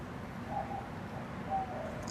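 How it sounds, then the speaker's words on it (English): Doves cooing softly in the distance, a few faint, drawn-out coos rising over a steady bed of outdoor background noise. "I think those are the doves. They make a beautiful sound."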